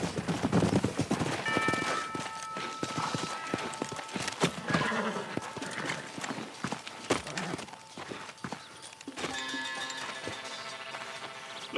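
Horse hooves clip-clop in the Western video game Red Dead Redemption, steady footfalls mixed into a busy game soundtrack with occasional whinnies and scattered gunfire.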